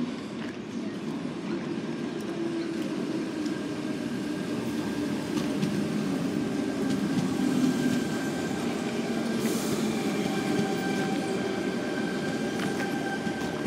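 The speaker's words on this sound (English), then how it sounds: "We got a Tangara arriving on platform number 5, Bondi Junction service." An electric Tangara passenger train rolls into a Sydney platform with a steady rumble and faint metallic wheel squeals, loud and close.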